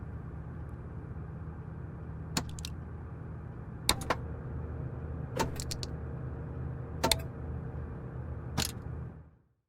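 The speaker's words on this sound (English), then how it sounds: "Even the invisible electrical systems have their own sounds, like relays, contactors, and the bus ties" Sharp electrical clicks of relays, contactors and bus ties snapping at irregular intervals, about six in all, over a steady low hum, in a Black Square Starship aircraft in Microsoft Flight Simulator.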